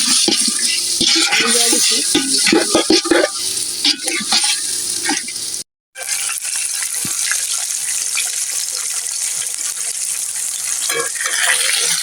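Chicken sautéed in a pot for biryani, a continuous close sizzle of frying under rapid scraping strokes of a stirring spoon, with a brief drop to silence partway through.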